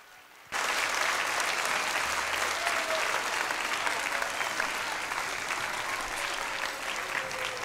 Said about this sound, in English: can we give a big round of applause for everybody that helped out?